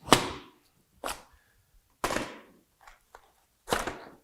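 Four sharp plastic clacks, a thick X-Tac rifle magazine pushed into and pulled from an elastic Haley Strategic double pistol mag pouch, each a crisp close impact with a short scrape tail, spaced about a second apart.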